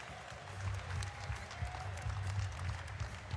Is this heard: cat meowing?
no